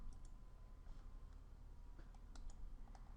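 Faint, scattered mouse clicks, several soft ticks spread over a few seconds, as a file is renamed on a computer in Photoshop, set against a quiet low hum.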